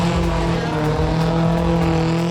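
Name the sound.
rare cars drifting in a stunt show at Museum Angkut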